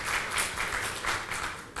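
An audience applauds to welcome Union Minister Nitin Gadkari at an interview event, a dense, steady wash of many hands clapping, heard from a distance at moderate volume.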